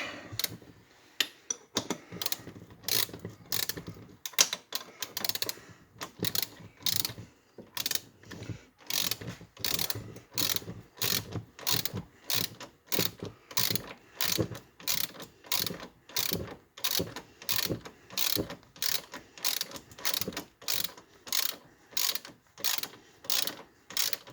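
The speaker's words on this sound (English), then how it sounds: "Now I'm tightening up the upper ones." A ratchet wrench tightens the upper front suspension control arm bolts on a 2002 Suzuki Vinson 500 ATV during a rebuild, giving long runs of loud, close, rhythmic clicking strokes with short pauses between bursts.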